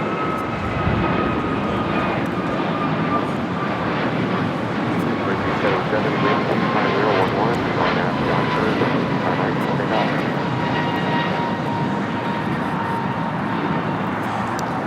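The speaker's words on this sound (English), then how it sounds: "That was American Airlines 285 taking off to Lihui on an A321neo." An American Airlines Airbus A321neo takes off from LAX, its engines producing a steady, loud roar that holds throughout, with people talking over it.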